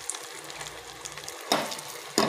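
Food fries in a pan with Kashmiri chili powder, giving a soft, steady sizzle up close, broken by two louder scraping bursts as a spoon stirs it.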